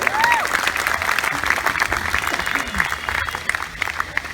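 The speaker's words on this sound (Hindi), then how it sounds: "एक बार तालियां बजा के बताइएगा भाई आपके अपने।" An audience at a poetry reading in Model Town, Delhi, claps for a poet in a fairly even patter of hands, mid-distance, with a few voices murmuring underneath.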